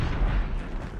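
A grenade explodes in Call of Duty Mobile, a loud, close, rumbling blast with a deep low boom that fills the brief moment.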